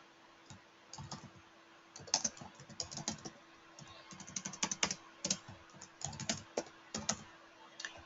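Typing on a computer keyboard while entering contact details into CRM software, irregular bursts of close, crisp key clicks with short pauses between words.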